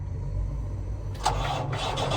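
A truck engine starting: a quiet low idle-like rumble, then the starter catches at about one second and the engine fires and runs with a louder, rougher mid-range roar, close by.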